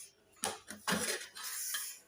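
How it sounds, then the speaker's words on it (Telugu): Metal lid lifted off a pot of egg biryani, with a few sharp clanks and scrapes of metal cookware, close and fairly quiet, and no talking. "10 నిమిషాల తర్వాత మూత ఓపెన్ చేసి చూద్దామండి"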